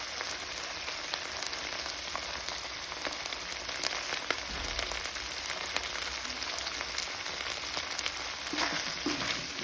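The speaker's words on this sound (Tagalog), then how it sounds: "Gisa lang natin ng konti mga kaulam ideas." Sisig sautéing in a pan, giving a continuous dense sizzle with faint scraping stir sounds, close up and steady, with no talking.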